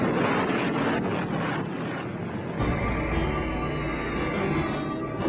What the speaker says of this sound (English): Waves of bombers continue to pound military installations in an all-out assault on the island.